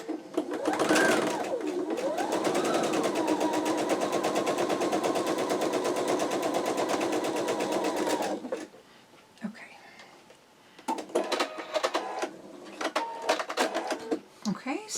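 A sewing machine runs steadily for about eight seconds while stitching quilt blocks for a calico cats pattern, then stops. Short bursts of handling and machine noise follow.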